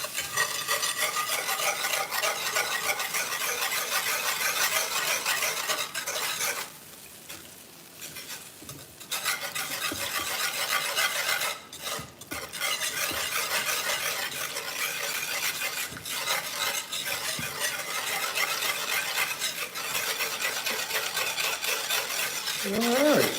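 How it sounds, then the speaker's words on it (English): A whisk beats batter steadily in a bowl to break up lumps, a continuous close scraping and stirring that pauses briefly twice before resuming. "So I'm just gonna pour and whisk"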